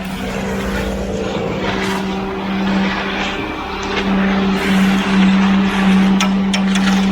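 A concrete vibrator runs steadily in a sidewalk form, a loud close droning hum with a constant pitch that holds for the whole stretch, with some rougher rumble and scraping underneath and no talk.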